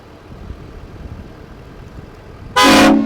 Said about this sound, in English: The train horn, man.